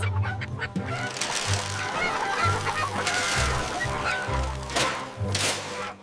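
Cartoon chickens on a farm cluck and honk at dinner time in repeated loud bursts, their calls overlapping with music and bright effects throughout.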